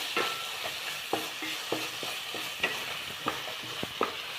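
Turmeric powder fries in hot oil for a sardine biryani, with a steady close sizzle broken by regular spoon strokes against the pan, each a short distinct clack.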